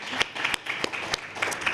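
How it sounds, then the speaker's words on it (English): A small audience at a university debate applauds the debaters, brief scattered claps in an uneven patter, moderately near and fairly faint. "I'd just like another round of applause for all of our visiting debaters and our debaters here at home."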